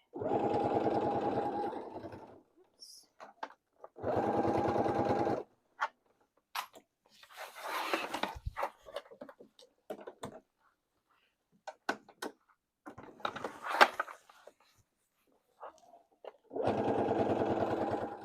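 A sewing machine stitches through three layers of faux leather in several bursts of steady, close whirring, separated by quiet pauses filled with small handling clicks and rustles.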